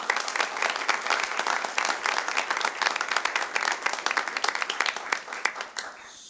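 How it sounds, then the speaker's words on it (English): A room full of people at a city council meeting applauding, dense steady clapping that holds for several seconds before tapering off at the end. "one more big round of applause for Sam."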